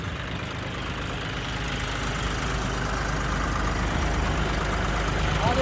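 A steady tractor engine rumbles and idles throughout in a field being prepared for maize, low and continuous nearby, with no voices.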